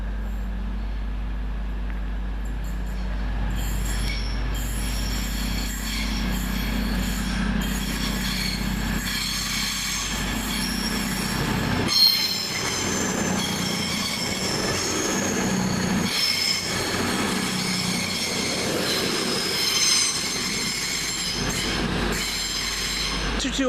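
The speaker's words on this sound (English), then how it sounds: "a late running cross country from the one from Southampton Central to Manchester Piccadilly via Stockport" A late-running CrossCountry passenger train from Southampton Central to Manchester Piccadilly passes at Stone, its wheels squealing in long, high metallic screeches over a continuous rolling rumble and occasional clickety-clack for over twenty seconds.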